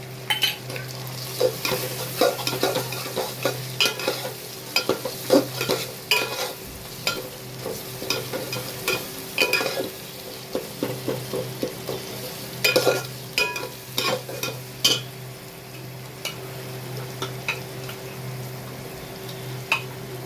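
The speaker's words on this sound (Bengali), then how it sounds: "এই জিরে, ধনে, গোলমরিচ, লঙ্কা বাটা এই দিয়ে দিলাম।" Ground spice paste of cumin, coriander, black pepper and chilli frying with garlic paste for a mutton dish, stirred with steady scraping and clattering strokes over a continuous close sizzle and a low burner hum.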